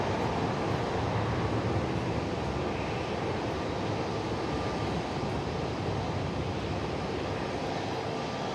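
An airplane arriving from Midway descends to land at Sky Harbor during a storm, a steady broad engine roar at moderate distance that holds evenly throughout with no voices.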